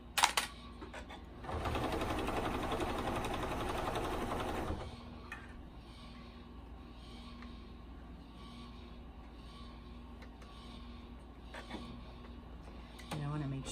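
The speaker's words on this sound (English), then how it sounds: "I'm just going to top stitch around this little hood." Sewing machine running in a steady, fairly loud mechanical whir for about three seconds while top stitching around the small hood of a quilted car seat poncho, then stopping, with quieter handling sounds afterward.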